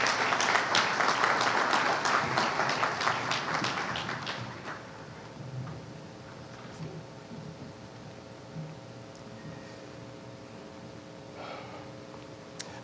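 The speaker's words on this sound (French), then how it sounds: "Sous vos applaudissements, s'il vous plaît." Applause from an audience at an official speech ceremony during a law fair, fairly dense clapping for about four seconds that then fades out, leaving a quiet hall with faint shuffling.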